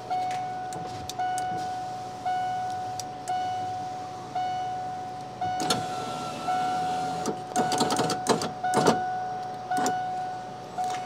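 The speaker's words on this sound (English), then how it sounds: "now bring the window down" A bus power window with a newly replaced regulator runs downward, its motor whirring in short bursts near the end, while a repeating vehicle chime beeps steadily in the background.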